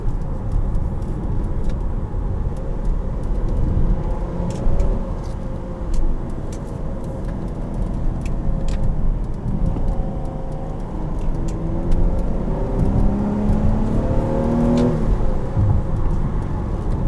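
A 2014 Mazda CX-9 Grand Touring drives over bumpy roads in Hingham. Steady, close cabin road rumble carries faint engine tones and scattered light clicks and thumps from the bumps.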